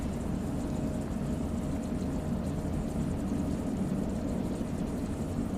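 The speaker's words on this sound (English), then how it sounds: "Hear a plane taking off right now?" An airplane taking off near Las Vegas, a broad steady engine roar, distant and fairly faint, holding evenly without clear rise or fall and with no talk over it.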